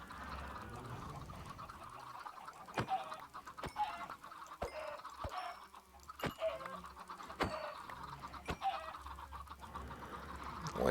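Minecraft chickens cluck in short, repeated bursts at irregular intervals, several birds overlapping at moderate volume over a quiet game background.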